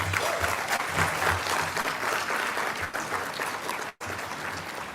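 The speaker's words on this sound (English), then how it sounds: "I'd like to give him a round of applause" A conference audience gives an event organizer a round of applause, with dense, steady clapping from many hands throughout, briefly cut off near the end.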